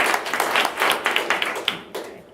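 A small audience at a blockchain summit panel claps for a panelist, with individual claps clearly distinct in a loose, uneven rhythm that thins out toward the end.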